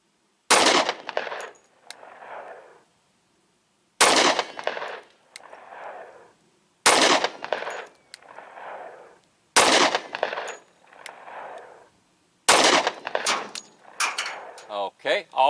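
A Smith & Wesson Shield .45 Auto pistol fires 155 grain frangible hollow-point rounds at a target: five loud, sharp shots spaced about three seconds apart, each followed by a fading echo outdoors.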